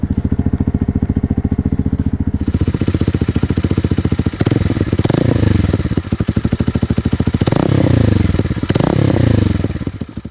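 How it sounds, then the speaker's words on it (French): A Bullit Hero 125 motorcycle in the Gulf Oil Edition idles with a loud, close, rhythmic exhaust thump. Several throttle blips push the note up briefly before it settles back. "On démarre. Première chose qu'on remarque, la sonorité de l'échappement."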